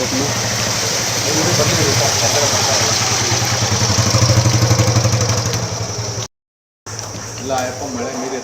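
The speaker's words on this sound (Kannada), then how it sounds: "ಬೈಕ್" A motorcycle engine idles with a low steady throb close by during heavy rain in Bengaluru, a continuous pulsing rumble under a constant wash of rain noise, with a brief gap near the end.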